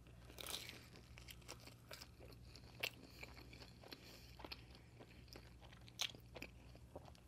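A Pizza Hut stuffed garlic knot with cheese inside, dipped in marinara, is bitten and chewed close up, giving soft crunches and a few sharper bites over quiet, wet mouth noises.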